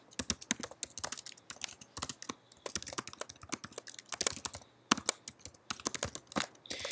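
Computer keyboard typing commands into a Windows setup, a steady run of quick close clicks in short bursts with brief pauses, no voices.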